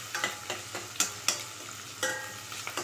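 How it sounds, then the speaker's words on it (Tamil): Onions and green chillies with a pinch of asafoetida sautéing in a pan, a steady soft sizzle broken by several sharp scraping stirs of a spoon against the metal, close and without any talk. "கொஞ்சமாக பெருங்காயத்தூள் போட்டு நல்லா வதக்கி விடலாங்க"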